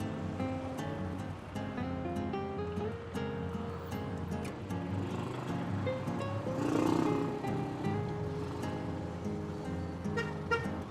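Saturday road traffic in a slow jam, with a steady engine drone and a few short car horn toots, one louder swell midway, nearby and continuous throughout.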